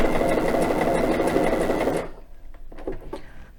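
A sewing machine fitted with a cording foot stitches a cord in zigzag, running as a loud, steady close-up whir for about two seconds before stopping, leaving faint handling clicks.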